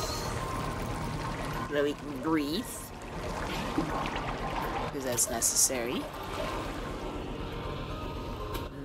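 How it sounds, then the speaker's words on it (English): Water drains with a steady, close pouring and trickling rush in the game Gori: Cuddly Carnage, running continuously beneath someone talking. "To drain all the water."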